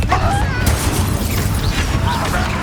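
Confringo spell blasts in Hogwarts Legacy, booming bursts and pops layered over a dense, continuous rumble of spell combat, with distant voices mixed in.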